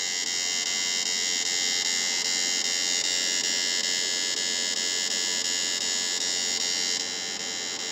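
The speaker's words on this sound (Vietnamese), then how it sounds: "anh em cảm nhận cái chất lượng âm thanh của con máy như thế nào ha" An electronic fish-shocking machine with 18 FETs runs steadily, giving a loud, continuous high-pitched electrical buzz and whine that holds unbroken for the whole stretch.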